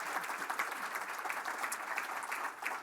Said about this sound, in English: How about a nice round of applause for our panel,